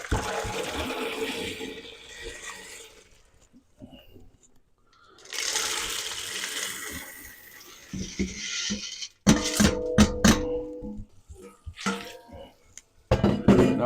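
Tap water rushes into a pot holding dried corn for hominy, a loud steady pour that pauses and resumes, followed by clattering pot and spoon knocks and brief speech.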